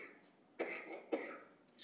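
A person coughs two times in a row, each a sharp, fairly soft burst, with a third one starting at the very end, in a quiet indoor room during a literary talk.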